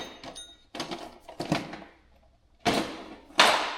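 A regular hand wrench tightens bolts on a shed trailer's Brake Rite brake system, giving several short close ratcheting and metallic clicking bursts separated by pauses.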